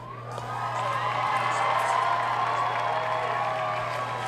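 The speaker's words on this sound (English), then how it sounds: "Now you're clapping." A theater audience at a comedic Jurassic Park show breaks into sustained applause mixed with cheers and whoops, a broad steady roar of many hands lasting several seconds.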